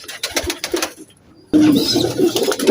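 Teddy pigeons of a KTM pure bloodline cooing close by, a soft burst early on, a short pause, then louder, denser cooing and rustling that carries through to the end.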